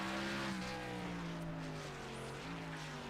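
Onboard engine of the number 11 race car in the Asphalt Outlaws racing video game whines steadily with sustained tonal harmonics that slowly shift in pitch, close and continuous.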